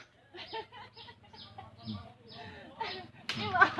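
Chickens cluck and squawk in short, busy bursts nearby, with a louder flurry of calls at the end.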